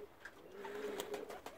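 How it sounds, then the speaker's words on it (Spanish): A pigeon gives a soft, low coo with brief fluttery bursts that sound like flapping wings, fairly faint and close, with no talking over it. "La paloma brincando."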